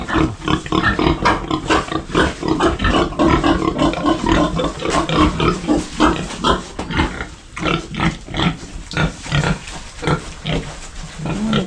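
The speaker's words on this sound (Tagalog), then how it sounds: "Subukan natin yung Madre de Agua kung kakainin na ng baboy." A pig eating Madre de Agua leaves, close and loud, with a steady stream of chomping, slurping and grunting noises running continuously without pause.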